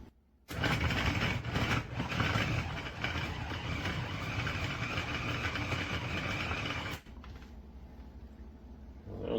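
A TURNRISE 250W electric chicken shredder motor starts and runs for about six seconds with a loud, steady whir and rattle, then drops to a quieter winding-down hum.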